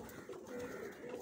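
A black pigeon on a rooftop gives a soft, low coo, one short rolling call, faint and close.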